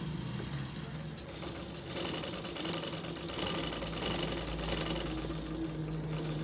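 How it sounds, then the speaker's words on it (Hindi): A large household sewing machine with loose tension runs a straight seam on fabric, giving a continuous close rattling whir that swells slightly midway and keeps going to the end. "अभी इसको सीधा सिलाई मार के देखते हैं।"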